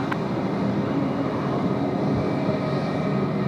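A Jetstar airliner taking off at Sydney Airport, a steady, broad roar of jet engines heard from a distance, constant and unbroken throughout.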